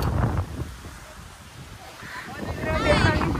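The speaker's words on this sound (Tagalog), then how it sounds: "Grabe ang hangin." Gusty wind buffets the microphone in rumbling bursts, rising and falling, with some voices faintly underneath.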